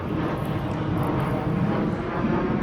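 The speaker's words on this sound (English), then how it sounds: "airplane, sorry" An airplane drones overhead above a front yard butterfly garden in Houston, Texas, a steady broad rumble that stays even and fairly loud throughout with no talking.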